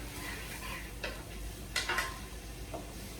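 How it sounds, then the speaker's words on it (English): Colcannon being stirred around in a frying pan, with a soft steady sizzle underneath and a few sharp scraping clinks of the utensil against the pan partway through, no talking. "Stir this around a little bit."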